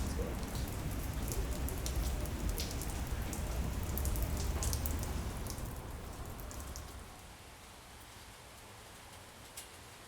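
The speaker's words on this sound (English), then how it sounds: "It's starting to rain." Rain begins falling outdoors in a park, a dense hiss of drops on surfaces that holds steady and then eases to a softer patter, with no voices.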